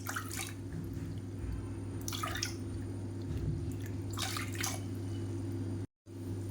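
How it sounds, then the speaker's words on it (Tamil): Water splashes and trickles into a cooking pot in a few short bursts while making black rice and urad dal porridge, set against a steady low hum. "3லேருந்து 4 கப் அளவுக்கு தண்ணி சேர்த்துக்கோங்க"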